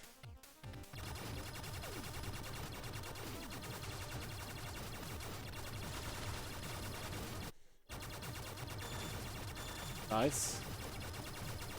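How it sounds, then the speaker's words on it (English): Wave beam weapon firing in the side-scrolling game Blaster Master Zero during a boss fight, a dense continuous barrage of rapid electronic shots under game music, with a brief dropout midway and someone speaking briefly. "Now this gun is called a wave beam, if I remember correctly."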